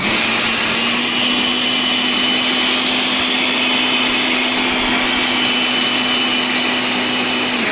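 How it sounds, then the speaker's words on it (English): A blender whirs at a constant loud pitch, blending nutritional yeast and almond milk into a vegan mac and cheese sauce, a steady unbroken motor drone with no one speaking. "Now I'm gonna blend it together."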